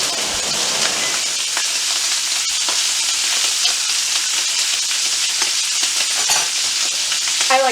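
Filet mignon searing in plenty of butter in a hot pan, giving a steady, dense sizzle and crackle with faint spattering pops throughout, close and continuous with no voices.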